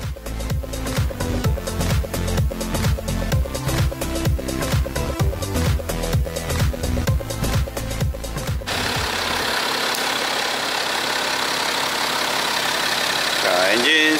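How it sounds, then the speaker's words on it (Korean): A BMW 5GT xDrive engine, brought in for abnormal noise on cold start, runs at a steady idle with a rhythmic, pulsing mechanical beat for several seconds, then gives way to a smoother, broadband running sound. "엔진 소리를 한번 좀 확인을 해봐야 되는데"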